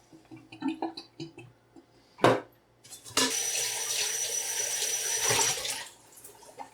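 Water from a tap runs over an aluminum clad saucepan being washed: a few clinks and taps of handling first, then a steady close rush of running water lasting several seconds before it is turned off.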